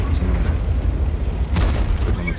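Artillery shell blast in a tank video game, a deep rumbling boom with a sharper burst midway through, heard under a voice.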